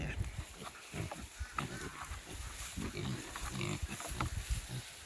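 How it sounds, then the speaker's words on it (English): Many small pigs grunting on a farm near an electric fence, a busy overlapping chorus of close snorts and grunts with scattered squeals, steady throughout with some low background noise. "You're a lot of pigs."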